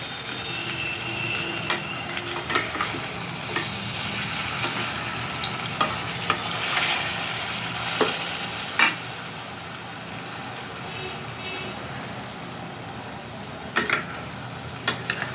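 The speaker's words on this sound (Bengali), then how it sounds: "এবার এগুলো গোল্ডেন ব্রাউন হওয়া পর্যন্ত আমাদের ফ্রাই করতে হবে মিডিয়াম হিটে" Marinated chicken pieces fry in a pan over medium-to-high heat, making a continuous close sizzle with occasional clicks and scrapes of stirring layered on top.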